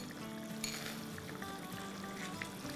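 Frozen peas added to a masala cooking in a pan for a matar paneer curry sizzle and fry steadily, a close, continuous hiss with a brief louder crackle as they go in.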